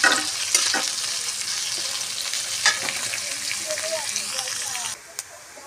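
Onion and potatoes fry and get stirred in hot oil, giving a steady dense sizzle with scraping spoon strokes throughout, close and fairly loud, fading near the end.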